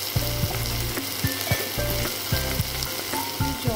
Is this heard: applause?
no